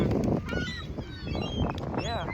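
Birds at Santa Monica beach give loud, close honking and squawking calls in a short burst, with people's voices mixed in.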